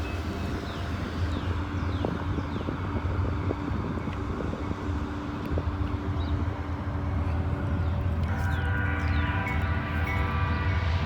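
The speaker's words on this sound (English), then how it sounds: "See if we can hear them horns start honking over behind me." Loud, continuous rumble of a loaded I&O rock freight train with a long, sustained horn tone joining toward the end, wind buffeting the microphone throughout.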